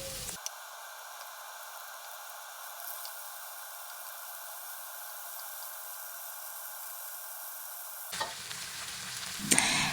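Chicken meat for Jamaican curry chicken frying in a pot with garlic and seasoning, a steady close hiss of sizzling that runs unbroken for about eight seconds before a few stirring knocks at the end.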